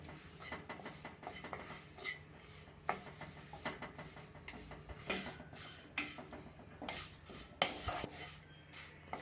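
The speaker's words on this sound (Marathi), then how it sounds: "ही पहिल्यांदा जरा कोरडी भाजून घ्यायची आणि मग नंतर थोडस एक चमचाभर तेल घालून ती चांगली खमंग भाजून घ्यायची" About fifty curry leaves dry roast in a pan for a spiced chutney powder, heard as quiet intermittent scraping and rustling stirring strokes against the metal with small clinks, fairly faint and close.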